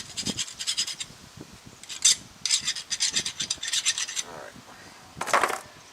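Metal file rasping sharp burrs off a front brake part of a 2018 Jeep Wrangler Unlimited Sport, in short bursts of close, scratchy strokes with brief pauses between them.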